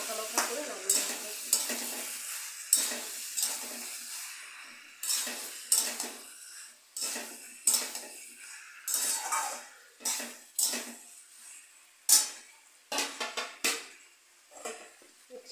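Spices and shrimp fry in a pan while a metal spoon stirs and scrapes in steady repeated strokes, each stroke a close, bright clatter over a faint sizzle.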